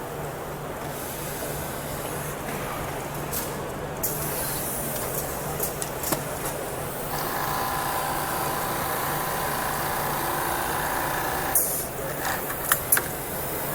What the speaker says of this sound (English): Here it is doing almost 2 operations, double color, pocket attaching with also bar tacking done.